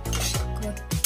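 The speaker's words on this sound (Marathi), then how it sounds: "याला सतत हलवायचं नाही तर मग आपलं बेसन खाली लागेल कढईला" A spoon scrapes and stirs gram flour (besan) roasting in a kadhai, making close, steady scuffing with a few brief clinks of metal against the pan. No one speaks.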